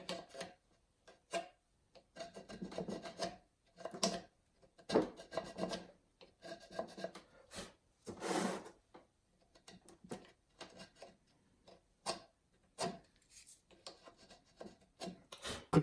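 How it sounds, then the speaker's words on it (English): Dried glue being scraped out of the joints of a wooden plant stand with a hand tool, a series of short rasping scrapes in irregular bursts with brief pauses between, close and fairly quiet, no talk. "clean out the glue that gets in there. Just quickly can go through it, scrape it off."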